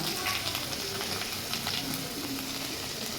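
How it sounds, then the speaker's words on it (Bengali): Spices with ginger paste and turmeric fry in oil for alur dorma, giving a steady, close crackling sizzle with light stirring throughout, with no voices. "দেখো মশলাটা কষাচ্ছি আর দেখো তেল ছেড়ে এসছে"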